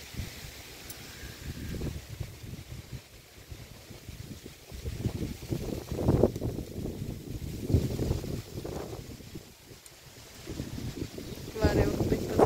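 Gusty wind sweeps across a farm field of sugarcane with maize and coriander, a loud, steady low rumble that swells and dips in gusts throughout, close to the microphone.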